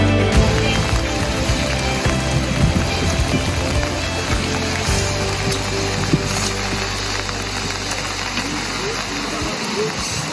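Steady rain hisses over a Seoul street, a dense, broad wash of falling water with a low engine hum underneath and voices talking through it.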